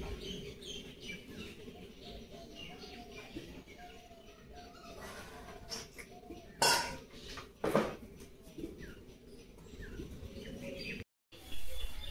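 Metal puja vessels being washed by hand, giving sparse clinks and clatters, including two louder knocks, over steady outdoor ambience with birds chirping nearby.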